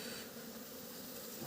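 Bees fill the air with a steady, continuous buzzing hum, faint but unbroken throughout, with no voices.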